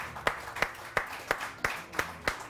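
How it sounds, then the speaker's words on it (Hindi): Rhythmic claps at a steady, quick pulse, evenly spaced and moderately faint, from the audience of a Pakistani morning television talk show. "बहुत सारी तालियां"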